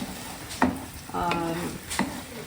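Ingredients stirred together in a cooking pan for a Ugandan lunch, a soft sizzle with three distinct scraping strokes of a utensil, close up with no talk.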